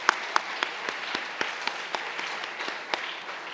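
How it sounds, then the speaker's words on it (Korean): A church congregation applauds in a sustained patter of clapping, with a few sharper individual claps standing out near the start and no talking. "우리 박수 한번 하겠습니다."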